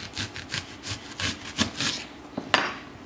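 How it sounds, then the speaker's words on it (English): A knife saws back and forth through an onion, cutting thick rings, with repeated rasping strokes in an uneven rhythm and a sharp knock of the blade on the cutting board near the end, close and moderately loud. "Okay, so I'm gonna cut in 3 slices."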